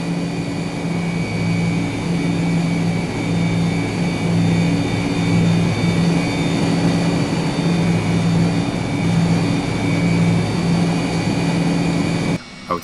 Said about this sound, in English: Outside engine noise is decent, but I don't think it is complete.